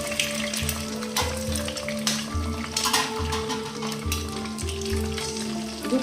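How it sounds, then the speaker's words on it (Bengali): Eggs frying in a little oil in a frying pan for bhurji, a steady close sizzle and crackle with occasional stirring scrapes and a low hum underneath. "এবার এই ফ্রাইং প্যানেই একটু সামান্য তেল দিয়ে দিয়েছি। ডিমটাকে একটু ভুর্জি করে নেব।"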